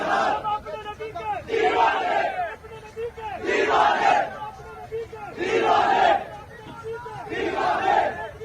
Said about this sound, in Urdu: اب تحریک کے لبیک پاکستان کے نعرے لگ رہے ہیں.